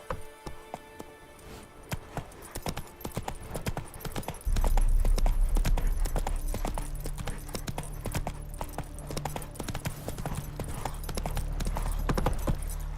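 Horse hooves pound in a fast gallop in The Witcher 3, a steady loud clip-clop rhythm that grows heavier and fuller partway through and keeps drumming to the end.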